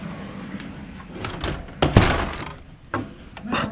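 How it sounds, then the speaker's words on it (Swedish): A stiff, hard-to-close indoor door is shoved against its frame, giving several dull thumps and a sharp knock partway through, with rubbing and creaking between the impacts. "Denna dörren är jättesvår att stänga."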